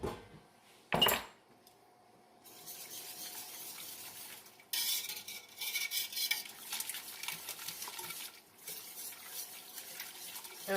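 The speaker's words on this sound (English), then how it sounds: "So now I'm going to whisk it." A whisk stirs corn chowder in a pot, a close, continuous scraping swish that starts after a brief clatter, with a few short pauses.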